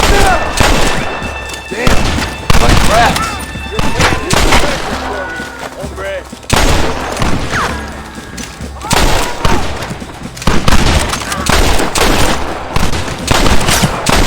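A loud Red Dead Redemption gunfight, with repeated booming gunshots and rapid volleys in irregular bursts, mixed with shouted voices throughout.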